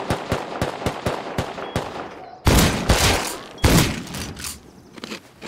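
Gunfire in the game Rust: a rapid string of sharp single shots followed by several loud, heavier bursts with lingering reverberant tails, no talk over them.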